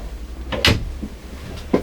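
A cupboard door in a 2021 Sunlight V66 Adventure Edition motorhome knocks open or shut, two brief close wooden thuds about a second apart in a quiet interior.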